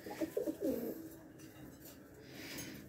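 Rajshahi Giribaz pigeons coo in a short burst near the start, then a quiet room hush follows with little else.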